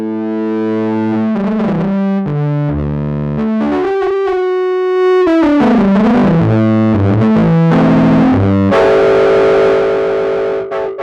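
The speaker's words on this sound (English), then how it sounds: "It's a stereo analog distortion." Sequential Prophet 6 synthesizer played through its stereo analog distortion effect: a continuous, loud, buzzy melodic line of gritty, harmonically rich notes shifting pitch throughout, with no voices.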